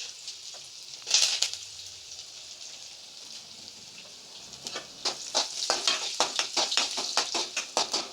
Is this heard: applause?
no